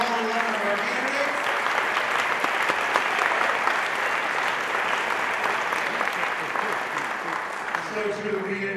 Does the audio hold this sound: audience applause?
yes